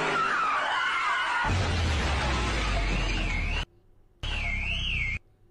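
Car tires squeal in a loud skid with a rising whine, then a harsh broadband crash burst cuts out, followed by another short squealing stretch, as played from a meme clip.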